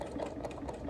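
A sewing machine hums fast and steady while free-motion quilting a star quilt with petals, feathers and curls, close and continuous.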